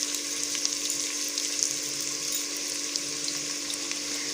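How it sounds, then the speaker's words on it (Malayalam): Sliced medium onion frying in hot ghee for a prawn biryani, giving a steady, close, broadband sizzle that crackles evenly throughout with no voices. "നല്ലപോലെ സ്ലൈസ് ആക്കിയെടുത്തൊരു മീഡിയം സവാളയാണ്. അത് നമുക്ക് ഇതിനകത്തൊന്ന് പൊരിച്ച് കോരിയെടുക്കാം"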